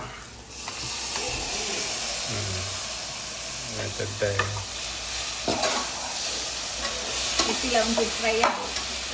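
Frying for a prawn biryani gives a loud, continuous sizzle and hiss with stirring noises throughout. Brief murmured voices surface now and then under the frying.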